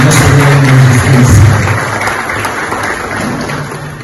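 An audience applauds a newly elected vice-president of the national magistrates' association, with dense, loud clapping that holds steady and then slowly tapers off.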